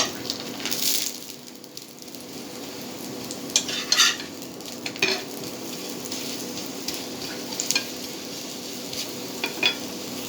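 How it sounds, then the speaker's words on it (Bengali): Red flour (lal atta) parathas fry in a pan with a steady, close sizzle, broken by occasional sharper crackles and scraping touches, with no talk. "আমি পরোটাগুলো যেইভাবে বানিয়ে রেখেছি ওই পরোটাগুলো এখন ভাজবো।"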